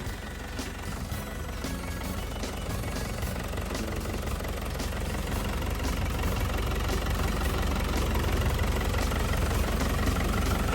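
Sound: Caterpillar 312C excavator diesel engine idling

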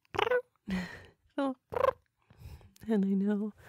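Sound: voice imitating a cat's sleepy purr or meow

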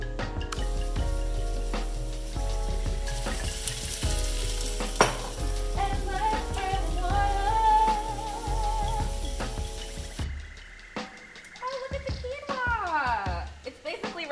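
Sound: collard greens sizzling in a pot with smoked paprika

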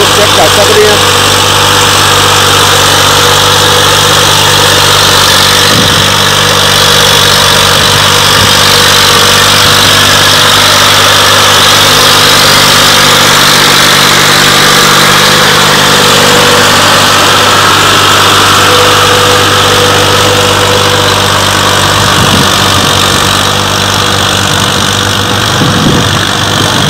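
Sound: Massey Ferguson 240 tractor engine running with 7-tine chisel

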